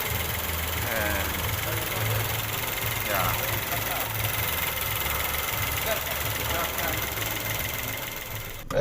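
A Nissan Almera's 1.0-litre turbo engine idles with a steady low rumble and light knocking texture. A voice talks faintly over it, and there is a brief bump at the end.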